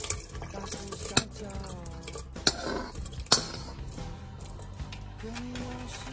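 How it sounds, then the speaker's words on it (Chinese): Chunks of beef dropped into a clay pot after boiling, giving a few clinks and soft knocks of meat and utensil against the pot among light kitchen clatter. "烧开以后将牛肉放入砂锅中"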